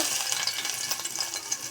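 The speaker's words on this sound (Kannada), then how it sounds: "ಕೊನೆಯದಾಗಿ ಚಟ್ನಿಗೆ ಸ್ವಲ್ಪ ಒಗ್ಗರಣೆ ಹಾಕೋಣ" Steady, close sizzling of garlic and curry leaves tempering in hot oil for chutney, with a crackly hiss running throughout and no voices.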